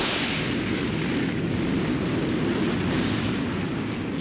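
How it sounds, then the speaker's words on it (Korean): Hallasan's volcanic eruption, rendered as a documentary sound effect, is a steady, loud, roaring rumble that fills the whole stretch with dense low-end noise, and no voices are heard. "약 100만 년 전부터 시작된 한라산의 화산 폭발이 그것입니다"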